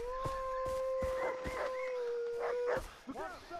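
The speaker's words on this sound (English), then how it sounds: "That is a dog." Dog howling in the video game Far Cry 3, a long, wavering tonal howl sustained for nearly three seconds over thumping game sounds, ending with short yips and whimpers.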